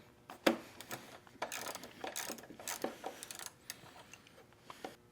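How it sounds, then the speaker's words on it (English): Hex key turning and backing out bolts on a 2024-plus Harley-Davidson Street Glide inner fairing: a run of close, quick ratcheting clicks and metallic ticks in short bursts, with one sharper knock near the start. "I'm gonna go ahead and take these two out."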